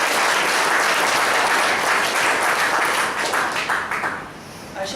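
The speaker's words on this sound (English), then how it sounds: "So can we please have a round of applause for that?" An evaluation session audience gives a full room round of applause after a speaker shares something personal, dense sustained clapping at steady volume that thins and fades near the end.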